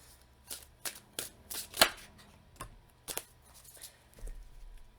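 Oracle cards being shuffled by hand, a close run of quick papery riffles and slaps in uneven bursts, with no talking.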